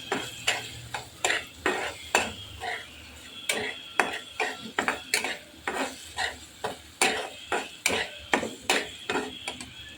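A spoon stirs turmeric into a spice masala roasting in oil, knocking against the pan in quick, repeated scrapes and taps over a faint sizzle.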